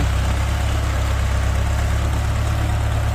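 Ford 6640 tractor engine running at a steady idle, a loud, close, continuous low rumble with an even throb and no talking.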